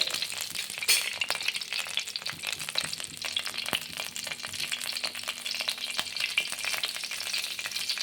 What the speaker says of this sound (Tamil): லேசாக அப்படியே கிண்டிக்கணும்